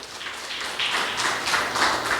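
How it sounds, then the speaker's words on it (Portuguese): Audience applause at a lecture on valuing life, given by a civil police chief: a steady, moderately loud wash of many hands clapping that swells slightly in the second half, with no one speaking. "Salva de palmas."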